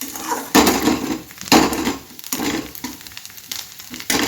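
Spices with turmeric and kasuri methi being stirred in a hot pan for momo filling, loud close scraping strokes in a steady rhythm over a soft sizzle, no talking.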